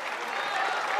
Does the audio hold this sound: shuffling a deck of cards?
no